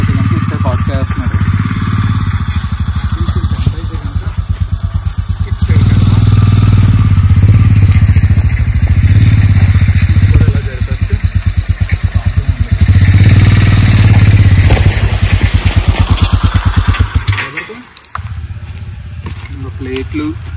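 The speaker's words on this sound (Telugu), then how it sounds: "నా బైక్ అయితే కనుక అలా పార్క్ చేస్తాను" Yezdi Adventure motorcycle engine running loud and close at a campsite while being parked, a steady throbbing idle with slight revving that cuts off near the end, then quiet.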